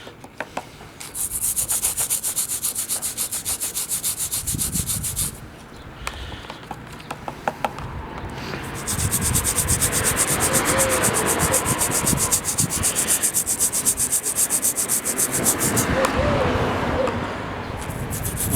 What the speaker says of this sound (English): just got a small amount of brake and clutch cleaner in a little dish and just going to try scrubbing this